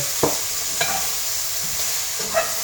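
Sliced mushrooms and bacon fry in a pan under a soft, even sizzle, broken by a few light scrapes and taps of a utensil stirring them.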